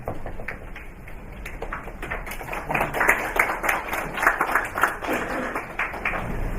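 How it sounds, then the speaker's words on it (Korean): Conference audience claps to welcome a business director to the stage: a moderate, uneven patter of many hands that builds slightly midway and keeps going without a clear end. "큰 박수로 부탁드리겠습니다."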